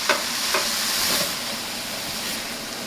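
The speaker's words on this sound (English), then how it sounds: "And I'm gonna stir it up." Green bean casserole mixture is stirred in a dish, giving a continuous soft hissing scrape with a couple of light spoon taps near the start, no voices.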